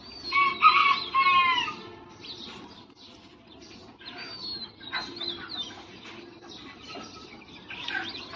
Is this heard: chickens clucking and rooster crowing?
yes